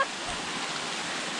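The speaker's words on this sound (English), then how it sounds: "That is like a whole waterfall." A large waterfall roars as a constant broadband rush of falling water, steady and fairly loud throughout with no pauses.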